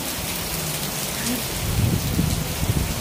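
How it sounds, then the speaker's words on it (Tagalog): Heavy typhoon rain in Macau pours down in a dense, steady roar, with gusts of wind swelling louder toward the end. "lakas ng ulan, ng hangin."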